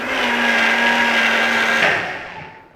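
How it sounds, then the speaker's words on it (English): A blender whirs loudly at a steady pitch while mixing vegan egg batter made with cornstarch and psyllium husk, running alone for nearly two seconds before the motor winds down and fades. "I want to make sure that everything's blended in there"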